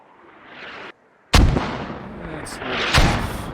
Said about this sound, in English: Mortar firing. Get ready for impact. Mortar coming in.